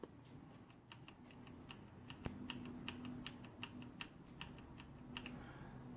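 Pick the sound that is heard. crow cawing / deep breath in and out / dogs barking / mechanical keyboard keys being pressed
mechanical keyboard keys being pressed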